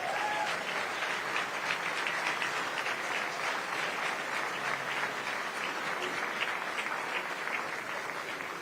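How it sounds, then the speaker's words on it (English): Sustained, dense applause from a dinner audience at a Texas Republican legislative dinner honoring Governor Abbott, steady and loud throughout with no clear speech. "Please give him another round of applause."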